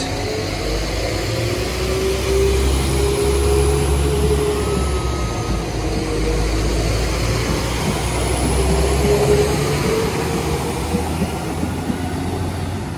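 Train at a railway station on a Liverpool and Warrington line, a steady heavy low rumble and hum holding throughout at close range, with faint tonal whines drifting above it and no voices.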